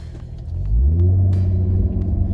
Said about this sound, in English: It's a good sound in Track mode. It opens up that exhaust.